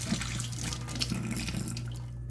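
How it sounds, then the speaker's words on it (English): Tap water runs in a steady, close, unbroken rush as a prepainted PVC miniature from NECA or WizKids is rinsed and scrubbed under the stream. "Let me just rinse this guy off real quick."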